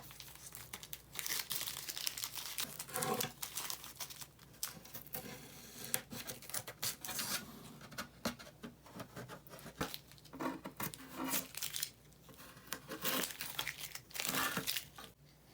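Masking tape peeled and crumpled during a custom guitar build, with close, quiet crinkling and tearing rustles in irregular bursts and no voices.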